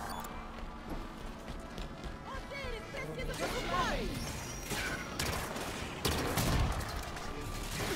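Turret gunfire in Halo 5 during a co-op campaign shows up as dense bursts of shots and crashing impacts mixed with other game effects at a moderate level, with players talking over it.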